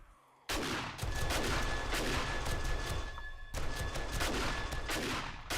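Sustained automatic gunfire in 7 Days to Die aimed at a ladder starts abruptly after a brief quiet moment, then rattles on loud and dense, with a short break before another continuous burst.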